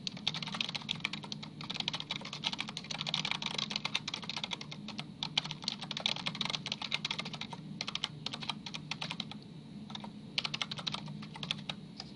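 Rapid, continuous typing on a computer keyboard while filling in an online registration form: dense, close clicking keystrokes with short pauses, no voices.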